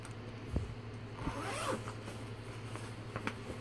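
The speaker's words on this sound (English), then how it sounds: "And it has a zipper in the back too." A zipper on a bag from an anime convention haul being pulled open, a short raspy zip near the middle of a quiet indoor recording with faint handling noise around it.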